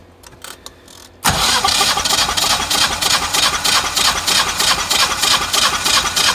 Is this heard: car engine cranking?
yes